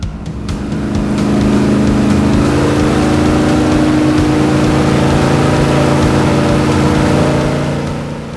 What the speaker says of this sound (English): to test this, you get an airboat